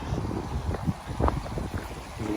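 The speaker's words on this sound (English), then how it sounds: "There's water rushing down here as well. It's an overflow." Overflow water rushing down beside Eastwood Lock on a canal, a steady broadband wash with wind buffeting the microphone and faint low thumps.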